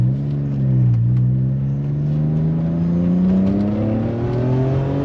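A BMW M3 with a new exhaust accelerating hard, its exhaust note rising in pitch over several seconds, heard from inside the cabin with a smooth, moderately loud drone.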